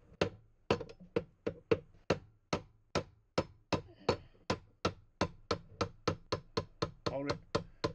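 Steady series of about twenty-five sharp metal taps as a rod drives a bushing out of a lathe, evenly spaced and close, each knock ringing briefly, with a faint voice in places.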